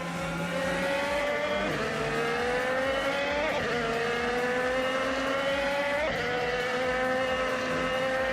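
A 2018 Honda IndyCar engine in a racing video game screams at high pitch, held steady and loud through the whole stretch, with brief dips and rises as the revs shift between gears.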